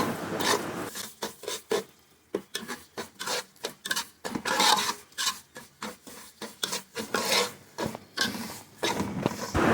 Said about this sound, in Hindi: अब इसको घी में अच्छी तरह से आपने भून लेना है।